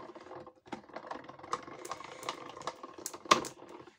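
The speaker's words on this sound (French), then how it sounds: "Et là, on fait passer dans notre machine de découpe." A card-making die-cutting machine presses a cutting plate through, giving a close, irregular run of clicking, ratcheting mechanical taps with a sharper clack near the end.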